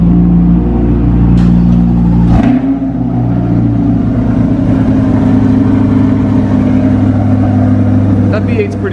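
A V8 sports car engine, a deep rumbling rev that drops sharply into a lower steady idle drone partway through, heard close and loud with faint voices in the background.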